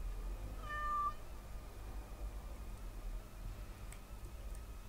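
A cat in the video game Dragon Age: Awakening gives a single short meow early on, fairly faint against a low steady background hum, followed by quiet ambience.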